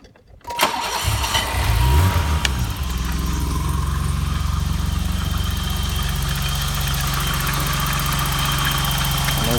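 A BMW E28 535is engine cranks and catches, revs briefly, then settles into a steady, even idle that runs on loudly and smoothly.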